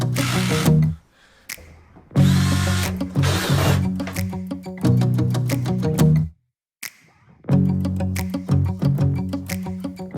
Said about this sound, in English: we got to drill the hole for the float valve, and we need a 1/2 inch